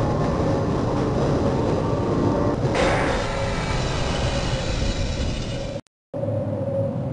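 Train ride in the Half-Life game: a steady, loud rail rumble and rolling hum carries on throughout, with a brief rise in hiss midway and a short cut near the end.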